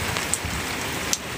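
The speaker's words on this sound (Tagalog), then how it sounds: "Pahinga kami kasi ngayon umuulan" Steady rain pattering on a surface in Croatia, an even hiss with a couple of sharper drips standing out.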